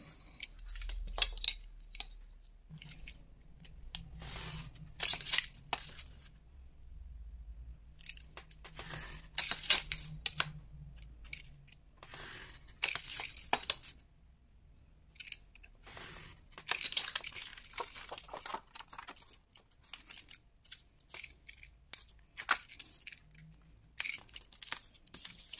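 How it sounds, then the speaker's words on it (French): Paper is cut out by hand with scissors to make a frame for a scrapbook gift box, with a series of intermittent snips and rustles separated by quiet pauses. "Et vous allez couper ici le cadre à l'intérieur."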